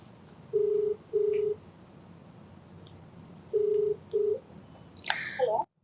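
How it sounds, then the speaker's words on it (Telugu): A telephone number is dialed as a run of steady touch-tone beeps in short pairs with pauses, followed by a brief electronic chirp as the call connects. "సో నెంబర్ ఇచ్చారు, నేను కాల్ చేసేస్తాను"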